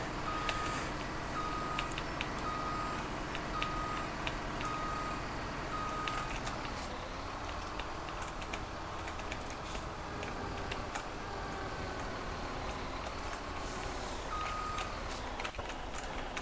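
A lorry arriving at a weighbridge sounds steady, evenly spaced reversing beeps for several seconds, then again briefly later, over a loud continuous engine rumble and broadband road noise.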